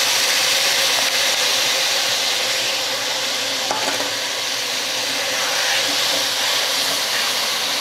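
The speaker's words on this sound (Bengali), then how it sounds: "মশলার সঙ্গে আস্তে আস্তে আলুগুলো আমি ভালো রকমভাবে কষিয়ে নেব।" Potatoes fry with spices in a pan, giving a steady, close, loud sizzle and hiss that runs without a break, with faint stirring scrapes mixed in.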